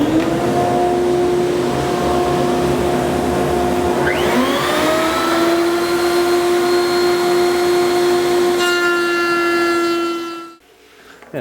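Router fitted with a dovetail bit cutting wood for an entry table, a loud steady high whine with a pitch shift midway as the bit engages, ending abruptly as it shuts off.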